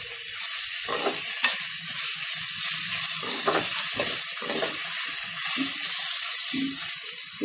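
Vegetables sauté in a pan for vada curry with a soft, steady sizzle, broken by occasional light stirring taps and spatters.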